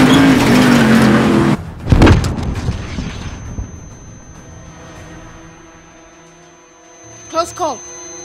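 An enemy truck drives in a Call of Duty Modern Warfare firefight: loud vehicle engine roar opens the scene, then a heavy boom near two seconds, fading rumble, and a few sharp gunshot-like hits near the end.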